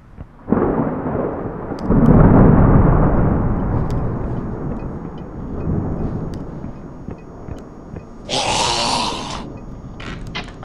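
A lightning strike and thunder in the video game Goosebumps Night of Scares, a loud rolling rumble swelling and fading over several seconds, followed by a sharp hissing crackle near the end.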